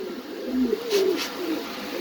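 Exhibition pigeons at a farm, cooing softly in low, rolling calls close by against a steady hiss of background noise.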